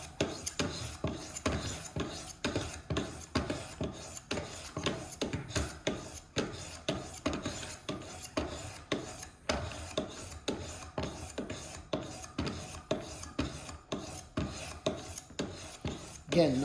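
A knife blade being sharpened on Wicked Edge Go stones, a regular series of rasping strokes repeating roughly twice a second, close and fairly loud with no talk.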